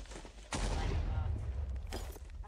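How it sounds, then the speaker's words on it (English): Heat shells fired from a tank in a modded tank video game: a sudden loud blast with a long rumbling low-end decay, plus a second shot near the end, over steady background noise. "I'm gonna try the heat shells now."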